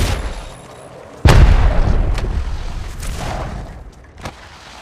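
Gunfire in the mobile game Apex Legends Mobile: a sharp loud boom followed by a decaying rumble, then a few more scattered shots at a distance.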